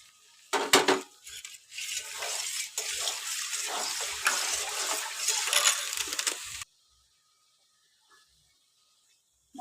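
Prawns hit a pan of cooked-down spice masala with chilli powder, coriander-cumin powder and turmeric. A loud, close sizzle and clatter lasts several seconds, then cuts off abruptly into near silence.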